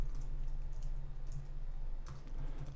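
Text is typed on a computer keyboard during design work in Figma, a short run of soft, quick key taps, faint under a steady low hum.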